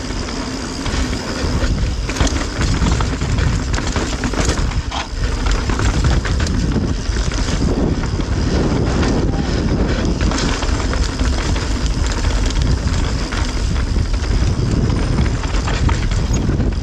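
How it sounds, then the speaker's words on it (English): Strong wind roars across a rocky mountain peak, a loud, continuous gusting rush that buffets the microphone for the whole stretch with no pause. "Here comes the wind."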